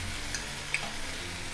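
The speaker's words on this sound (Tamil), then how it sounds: "தக்காளி நல்லா எண்ணெய் பிரிஞ்சு வர வரைக்கும் வதங்கட்டும்" Tomatoes sautéing in oil in a pan make a steady sizzle, with a couple of brief stirring clicks and scrapes near the start. The sound is close, and no one speaks.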